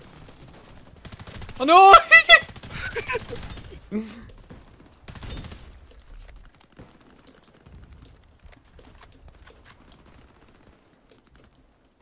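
Rapid bursts of gunfire from the first-person shooter Warface crackle loudly for a moment, followed by a player's exclamation and quieter scattered shots fading into near silence.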